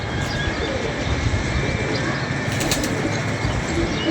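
Pigeons perched up high after feeding on grain give a dense, steady wash of rustling and fluttering, with soft cooing buried in continuous close noise throughout.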